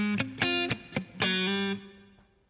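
Electric guitar with distortion plays part 1 of a song riff, a short sequence of plucked staccato notes ending on one sustained note that rings out alone and fades.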